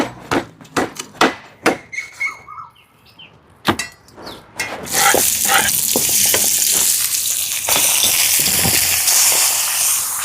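Lechon ribs being quickly sautéed in a pan: a few sharp clatters and stirring knocks at first, then a loud, steady broadband sizzle from about five seconds on, with occasional utensil taps through the frying.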